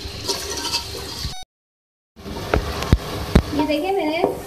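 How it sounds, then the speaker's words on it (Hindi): Chicken and spices frying and sizzling in a pot for dal gosht, with stirring clatter, broken by a short silence, with a voice murmuring faintly near the end. "अब मैं इसको भून लूंगी"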